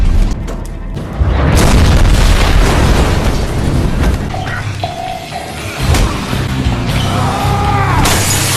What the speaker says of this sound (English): setting the building on fire and causing explosions